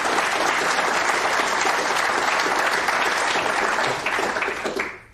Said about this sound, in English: So I think they deserve a particular round of applause.